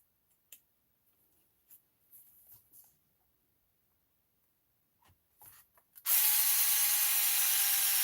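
After scattered light clicks and handling noises, a power drill suddenly starts up and runs at a loud, steady high-pitched whine.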